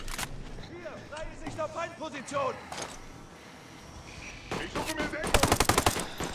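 Gunfire in the tactical shooter Ghost Recon Breakpoint: scattered shots, then a loud rapid automatic burst near the end, mixed with in-game sounds while someone talks over much of it.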